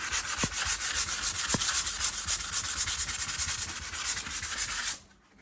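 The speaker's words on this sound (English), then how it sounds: "It's all sanded." Wooden baseboard being sanded smooth, a steady continuous rubbing and scraping close up that runs for about five seconds, then stops abruptly.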